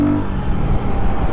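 Royal Enfield Guerrilla 450 motorcycle pulls away hard on the throttle, a brief loud, rough engine roar heard up close.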